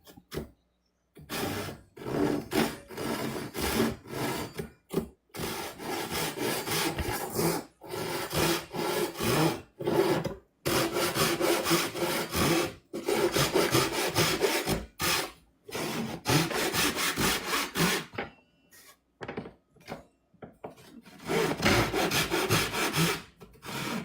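A hand saw cuts through wood in steady, rasping back-and-forth strokes, close and loud, coming in several runs broken by short pauses, with no voices over it.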